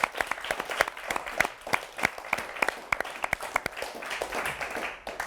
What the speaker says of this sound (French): on peut les applaudir, je crois